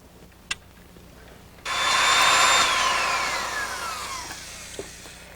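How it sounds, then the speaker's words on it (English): A rented right-angle drill with a 7/8 inch auger bit bores slowly into wood near a doorway, a loud whining drone that starts abruptly and gradually drops in pitch as it works, with faint clicks before and after. "I'm using a right-angle drill that we rented. It has a 7/8 inch auger bit, and it runs at a low speed"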